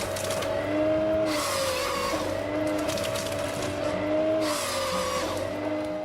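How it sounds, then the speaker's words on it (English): Hypro 755 tractor fitted with a Hypro F45 felling head cutting trees, a loud steady engine drone with a whining harmonic that swells in two louder bursts, continuous and close, no voices. "the Hypro 755 tractor and Hypro F45 felling equipment stand out, cutting trees seamlessly with precision"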